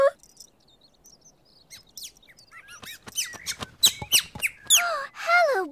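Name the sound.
cartoon character imitating a bird call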